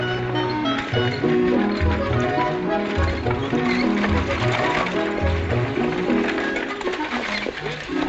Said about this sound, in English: take care of Mr. Danning's horse